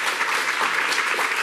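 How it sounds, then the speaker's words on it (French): Women in the audience at an evening event on cardiovascular disease applaud themselves, a brief, steady burst of dense clapping heard close and fairly loud. "Elles peuvent s'applaudir."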